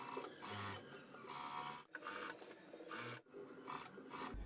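A sewing machine fitted with a stepped guide presser foot runs stitching a lined jacket, its rapid mechanical whir coming in several close, loud bursts separated by brief pauses.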